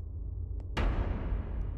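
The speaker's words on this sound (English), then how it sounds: "that door just closed" A single sharp thud of a door shutting cuts through a low, steady droning hum in a VRChat scary map, its heavy echo fading slowly afterward.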